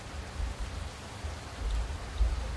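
Rain falls on a dark road at night, a continuous hiss with low rumbling swells underneath, steady and fairly close, with no speech.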